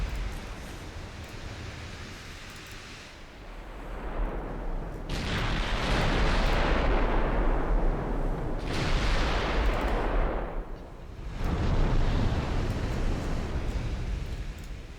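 Heavy naval gunfire from the British warships Repulse and Ramillies in a video game, with three long, roaring, rumbling blasts that swell and fade in succession over a low background rumble.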